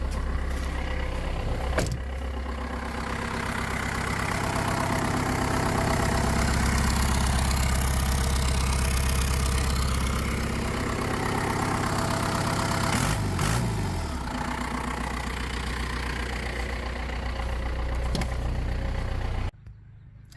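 A Jeep engine idles with its exhaust routed out through the fender, a steady, close, rumbling drone holding evenly for about twenty seconds before cutting away abruptly.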